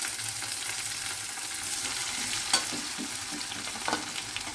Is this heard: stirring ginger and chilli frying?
yes